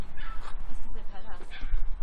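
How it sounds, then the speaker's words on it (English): A dog gives short yips and whimpering barks close by, mixed with voices talking over it. "the dogs are barking"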